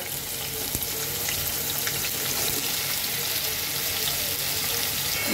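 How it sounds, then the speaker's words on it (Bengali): Cut eggplant pieces fry lightly in the oil left in a kadai after frying fish, a steady close sizzle with soft crackles and a sharp tap near the start. "এই মাছ ভাজা কড়াইতে আমি এখন কেটে রাখা বেগুনগুলো একটু হালকা ভেজে নেব"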